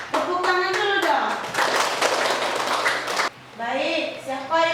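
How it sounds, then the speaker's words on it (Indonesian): A school class claps in rhythm during a counselling lesson, crisp rapid hand claps in a patterned chant between stretches of children and a teacher speaking close by. "Oke, tepuk tangan dulu dong."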